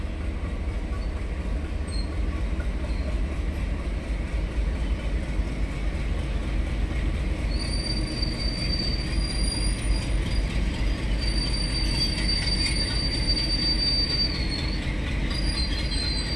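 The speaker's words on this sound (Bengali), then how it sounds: "আর আমার পাশ দিয়ে চলে আসছে ডিজেল চালিত রেল ইঞ্জিন, কয়লার বগি টেনে নিয়ে।" Diesel locomotive hauling coal wagons past Budge Budge station at dawn: steady heavy rumble of rolling wagons with faint high wheel squeals and clicks, continuous and fairly close, no talking.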